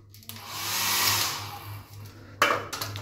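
A hair dryer in a Dubai hotel room blows with a strong whooshing roar, is briefly cut off, then starts again loudly.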